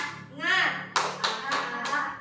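A classroom group performs an Indonesian "tepuk semangat" spirit clap, with a chanted voice followed by four loud, sharp, evenly spaced hand claps from several people clapping together.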